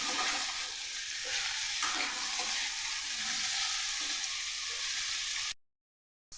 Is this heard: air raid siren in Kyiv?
no